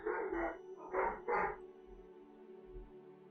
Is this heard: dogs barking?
yes